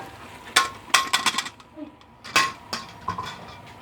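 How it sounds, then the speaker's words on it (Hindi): Macaroni is tipped into a pan of prepared masala for a home-style chicken and vegetable macaroni, with a series of sharp metallic clatters and scrapes from the pan and spoon, fairly close and quiet. "इसमें हम मैकरोनी डाल देते हैं।"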